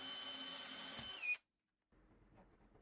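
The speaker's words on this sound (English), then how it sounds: "Here, I'm drilling a hole to bring the power cord in." A power drill whines steadily as it bores a hole through a wooden base, then stops abruptly. A short silence follows, then faint room noise.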